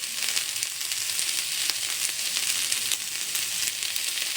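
Cauliflower pieces fry in hot oil in a home kitchen, giving a loud, steady hiss and crackle with occasional sharper pops throughout.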